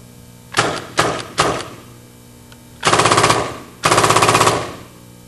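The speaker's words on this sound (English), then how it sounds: "check to make sure that the gun operates in both the semi and full mode." A Tippmann F/A paintball gun fires three quick single shots, then two loud rapid full-auto bursts of about a second each, close and sharp.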